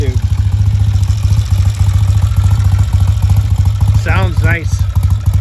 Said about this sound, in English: Turn the idle up and let it warm up.